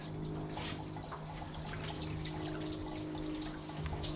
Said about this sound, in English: Oh, lots and lots of fluid coming out.